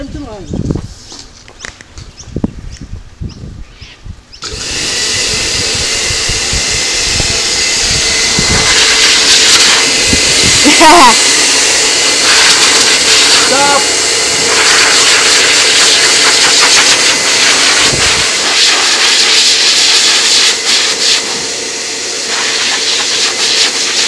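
A blow dryer drying a washed farm dog: after a few seconds of scattered handling thumps, a loud, close, steady blowing hiss starts and carries on, with voices now and then underneath.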